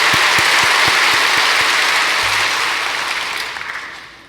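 A church congregation applauding during a sermon, loud dense clapping with a few distinct claps near the start, then slowly thinning and fading out toward the end.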